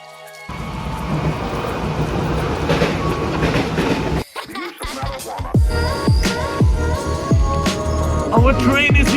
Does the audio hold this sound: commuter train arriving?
yes